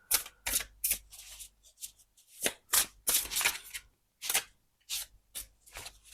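Tarot deck being shuffled by hand, a quick irregular series of crisp riffling and slapping card bursts with short silent gaps between them, close and fairly soft, no speech.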